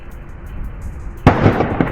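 Gunfire during a night shootout with police in barrio Virgen Cacupé, with machine gun and shotgun: after a low rumble, a sharp distant bang is followed by a few fainter pops.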